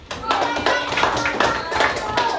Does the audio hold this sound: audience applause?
yes